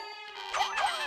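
A short bright electronic ding from a phone notification rings out twice in quick succession over quiet video game music.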